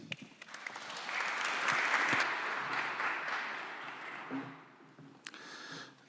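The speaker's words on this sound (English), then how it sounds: "Let us welcome with applause" Audience applause at a university anniversary ceremony welcoming a representative of the Polish Ministry of Foreign Affairs, a broad sustained wash of many hands clapping that swells early, holds steady and then thins out toward the end.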